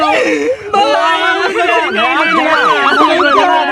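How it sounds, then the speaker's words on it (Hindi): An ambulance siren wails loudly and continuously, its rising and falling tones sweeping steadily throughout, close by and dominating, with voices faintly underneath. "एम्बुलेंस आ गई"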